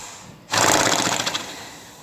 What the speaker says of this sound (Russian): Это тяжелое дыхание лошади,